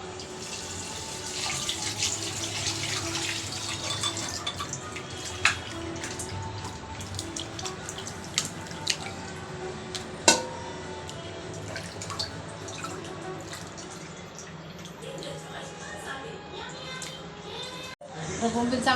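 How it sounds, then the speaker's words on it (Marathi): Bombay duck fish are washed under a running tap, with steady splashing water, drips and handling clatter throughout, and a voice faintly talking alongside. "बोंबील चांगले आपले 2-3 पाण्याने स्वच्छ धुवून घ्यायचे आहे।"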